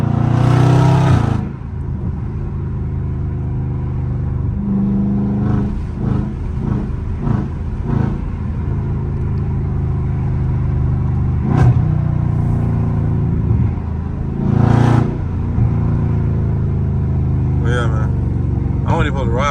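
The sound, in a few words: Dodge SRT 392 engine revving and downshifting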